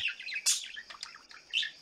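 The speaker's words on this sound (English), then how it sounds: "Sulfur-crested cockatoos can be locally very numerous, leading to them sometimes being considered pests." Sulfur-crested cockatoo calling, a few bright, harsh squawks and chirps that come close together and stand out loudly against quiet surroundings.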